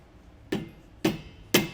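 Three sharp hammer taps strike a bent metal brake part on a Dexter disc brake kit for a 2021 Grand Design Solitude fifth wheel, evenly spaced and close, over a quiet background.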